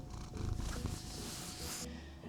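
A contented house cat purrs up close, a steady low rhythmic rumble that runs unbroken for a couple of seconds.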